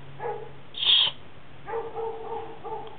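A dog indoors gives a single short, high-pitched yelp or bark, with a few fainter murmuring sounds after it in a quiet room.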